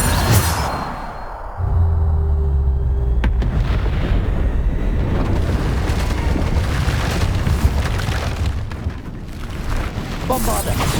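Bombarda blasting spells explode repeatedly during Hogwarts Legacy combat, heavy booming bursts with a big impact near the start and sustained rumbling action afterward.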